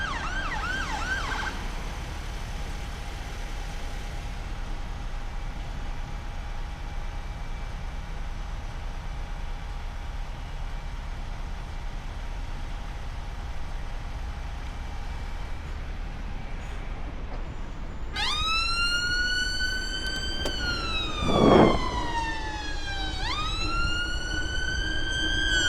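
An emergency vehicle siren wails loudly in rising and falling sweeps in the second half, passing nearby over steady traffic rumble near a roundabout and bypass, after a long stretch of road noise.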